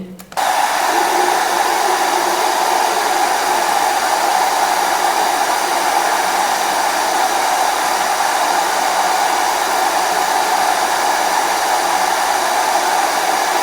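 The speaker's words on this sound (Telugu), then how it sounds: "ఈ హెయిర్ డ్రయర్ ద్వారా గాలి వేగంగా బయటికి వస్తుంది" A handheld hair dryer blows air into a cylindrical tube to lift ping pong balls, producing a loud, steady whooshing hiss that starts abruptly and holds unchanged throughout.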